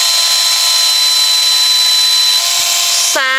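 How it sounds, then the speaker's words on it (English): A small power tool spins at a steady high-pitched whine while sanding the edges of a UV resin faux china embellishment, loud and continuous, cutting off with a brief tonal stop near the end. "sand around the edges."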